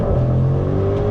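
A 2019 Maserati Levante GTS SUV engine pulling hard under throttle, a loud continuous rising drone heard from inside the cabin with no talking.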